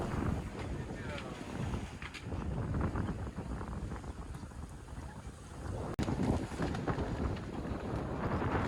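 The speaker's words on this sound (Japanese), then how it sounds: "順調に風に乗って5から6ノットでヨットを走らせます。" Sailing yacht running with the wind at 5-6 knots between the Marquesas and Tuamotu islands, steady rushing wind and water noise throughout, close and fairly loud with microphone buffeting.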